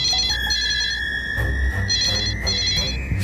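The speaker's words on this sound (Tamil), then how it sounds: "இது போன் ரிங் மாதிரி இல்ல, ஆபத்துக்கு அலாரம் மாதிரி இருக்கு" A landline telephone rings nearby: a sustained electronic tone with repeating bursts of beeping, loud and insistent, with no talking.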